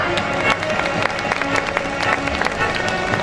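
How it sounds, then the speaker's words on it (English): An audience at a school's annual prize distribution gives sustained applause, dense and crowded clapping with a murmur of the crowd beneath it. "Let's give them a big hand."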